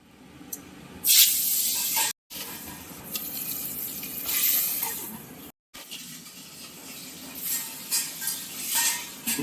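Pieces of pangas fish fry in hot mustard oil in a pan, a loud continuous sizzling hiss that surges as the fish go in, with brief gaps and clinks of utensils.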